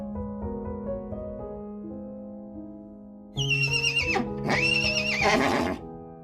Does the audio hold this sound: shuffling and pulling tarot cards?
no